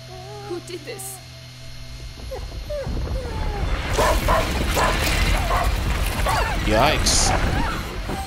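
Dog in the video game A Plague Tale: Innocence whimpering and yelping, with short cries and barks heard under a character's raised voice and a busy game soundscape.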